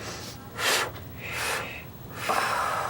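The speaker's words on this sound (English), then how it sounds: "we're going to breathe through our nose 3 times and exhale through our mouth" Three audible breaths: sharp nasal inhales and a breathy mouth exhale, each a distinct whoosh close to the microphone at a slow, even pace, during a seniors' yoga breathing exercise.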